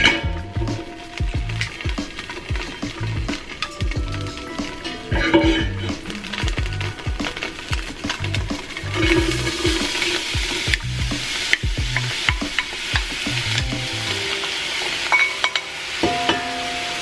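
Celery and carrots sizzle in avocado oil in a pot for a one-pot meal, with steady frying hiss broken by repeated scrapes and clinks of a utensil stirring against the bottom.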